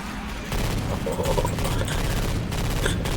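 Rapid bursts of gunfire crackle close and loud in Left 4 Dead 2 as Jockey eggs are shot, with a dense fusillade running almost continuously.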